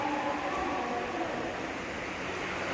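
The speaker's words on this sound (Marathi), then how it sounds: "ट्रेन येतेच आहे तिकडून" A train approaching on the tracks at a busy spot, a steady broad rumble filling the whole moment without clear change, loud and continuous.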